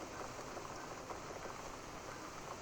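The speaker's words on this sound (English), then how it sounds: "Looks like we got the rain back." Rain falls in the PC game The Cat Lady, a soft, even patter of drops on surfaces that holds steady throughout at low volume.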